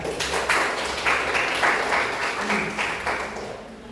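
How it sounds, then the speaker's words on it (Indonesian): Applause from a vocational school class in Indonesia for a student, steady clapping from a group of pupils that rises and falls over a few seconds, with faint background voices. "Ya, kita kasih aplaus kepada Niata."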